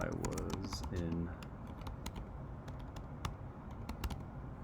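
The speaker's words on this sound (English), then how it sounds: "For the sake of time, I'm just going to type it real quick." Quick typing on a computer keyboard, irregular crisp key clicks spread throughout, with a voice talking briefly at the start.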